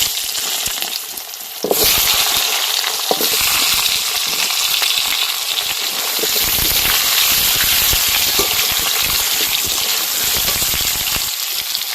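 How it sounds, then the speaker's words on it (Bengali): Cut potatoes dropped into hot oil seasoned with a dried red chilli and five-spice, bursting into a loud, dense sizzle that stays steady and close, with occasional stirring clatter. "ফোড়ন ভাজা হয়ে গেছে, এবার কেটে রাখা আলুগুলো দিয়ে দেবো।"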